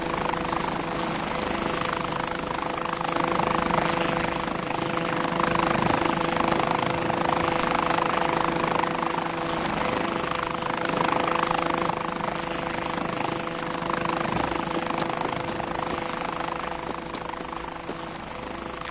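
A helicopter engine in the Vietcong video game drones steadily for the whole stretch, a dense, continuous rotor and turbine roar with a high whine, loud and unchanging, with no talk over it.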